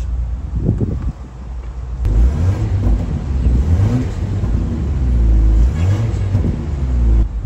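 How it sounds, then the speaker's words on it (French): A BMW X7 xDrive 40i starts with a brief click, then the engine catches and settles into a deep, steady idle with a low hum that swells slightly, close by and alone. "Donc c'est la BMW X7 xDrive 40i. Donc Start Engine."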